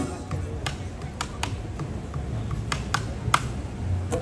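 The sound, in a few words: ipu heke ole hollowed board hula implement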